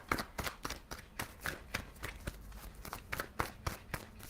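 Tarot cards being shuffled by hand, a quick run of crisp riffling snaps and soft slaps repeating at a steady brisk rhythm, close and fairly quiet, with no talking.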